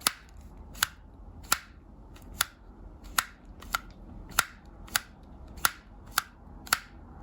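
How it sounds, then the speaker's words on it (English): A Motorola Z6C prototype slider phone is worked open and shut close up, each slide ending in a sharp, crisp click, about ten evenly spaced snaps over several seconds with no talking. "Let me bring it closer so you can hear the satisfying sliding mechanism."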